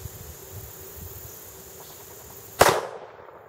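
A single loud, sharp shot from a Ruger .357 Magnum revolver cracks out near the end, its echo decaying, after a quiet outdoor stretch with faint insect chirping.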